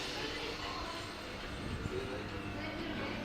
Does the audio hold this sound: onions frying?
no